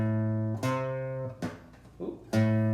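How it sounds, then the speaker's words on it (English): Guitar picking a descending minor seventh arpeggio, four sustained notes each struck cleanly and left ringing, with a soft muted scrape between the third and fourth. "So playing that minor 7th arpeggio shape going down would look and sound like this."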